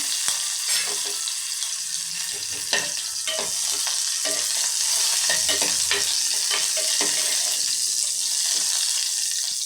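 Steady loud sizzling of onions frying with mustard seeds and spices in hot oil for tempering, with occasional scraping stirs and crackles throughout.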